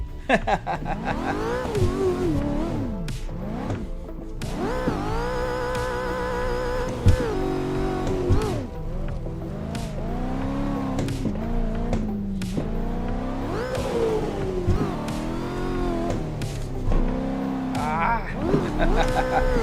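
A car engine revs hard during drifting, its pitch sweeping up and down in repeated bursts with tire squeal mixed in, loud and sustained for about twenty seconds.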